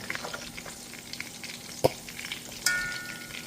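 Jerk BBQ meatballs cook slowly in a pan with a continuous low sizzle and crackle, broken by one sharp metallic clink and then a louder scrape of a utensil against the pan.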